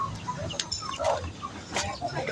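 Free-range village chickens cluck near at hand in short, irregular calls, with scattered rustling and faint background noise between them.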